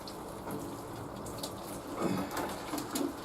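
Water splashes and trickles onto freshly sown seeds in a newly potted container, soft and close, with a light pattering spray swelling slightly toward the end.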